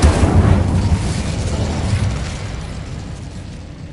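The Incendio fire spell in Hogwarts Legacy bursts in a loud, close blast of flame that rumbles and fades away over a few seconds.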